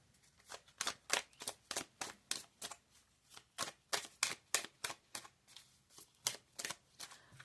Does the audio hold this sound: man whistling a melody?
no